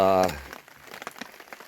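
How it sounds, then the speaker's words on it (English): Rain falls steadily on a tent at a motorcycle campsite, a soft crackling patter of drops close by, with a brief voice at the very start. "it's supposed to rain all day today, so I got plenty of time to sleep during the day while it's raining"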